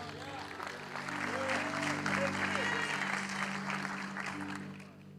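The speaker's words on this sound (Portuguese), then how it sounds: "Você pode aplaudir a Jesus aí." Congregation applauding at a youth church service, a broad swell of clapping that rises and holds, heard under a voice and a sustained music tone.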